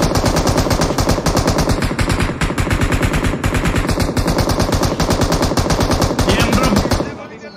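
Sustained rapid automatic gunfire, loud and continuous for several seconds before cutting off abruptly.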